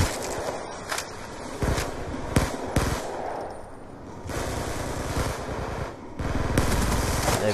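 Hip-fired guns in Black Ops 2 crackle through several bursts of rapid shooting and single shots, close and busy, with footsteps and battle noise between them and no talk.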